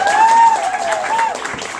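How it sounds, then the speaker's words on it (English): An audience applauds at an outdoor literary reading, a broad wash of clapping that holds steady for under two seconds while an amplified voice talks over it. "Can we get a big round of applause for them?"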